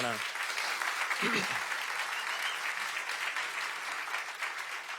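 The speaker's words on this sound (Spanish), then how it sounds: "el violinista Jorge Bedoya, un aplauso por favor." An audience at a harp music festival concert in Asunción, Paraguay claps steadily and densely for several seconds, sustained applause filling the hall, with a brief voice audible at the very start.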